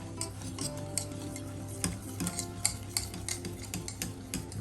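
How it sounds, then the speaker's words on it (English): A spoon mixing Welsh rarebit sauce seasoned with salt and pepper in a bowl, quick rhythmic scraping and clinking of metal against the dish, close and steady with no talk over it. "Just going to mix it up."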